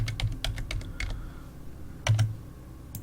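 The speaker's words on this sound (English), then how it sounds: "when I type this in" A password is typed on a computer keyboard as a run of light, close key clicks, followed by a short pause and then a few more keystrokes.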